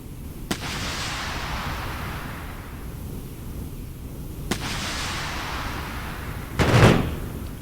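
Weapon fire from the Islands of War video game, three separate booming blasts, each with a long rumbling tail, spaced several seconds apart. The final blast is the loudest, a heavy explosion-like thump.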